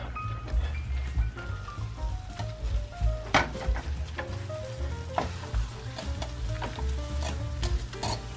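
Rice being stirred into coconut caramel in a pan makes a steady sizzling bubble with repeated scraping and soft sticky stirring strokes, close and continuous; no one speaks.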